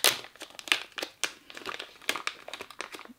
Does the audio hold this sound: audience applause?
no